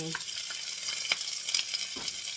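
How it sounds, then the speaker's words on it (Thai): Chopped shallots fry in a little oil with a steady, close sizzle, joined by a few soft stirring scrapes. The sound stays moderately quiet, with no one talking. "ผัดหอมสับจังหน่อยเพราะมันไม่กินจ้ะ ใส่น้ำมันนิดหน่อย"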